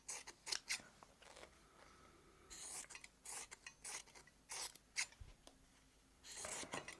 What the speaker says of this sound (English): just use your scissors to come in there and cut this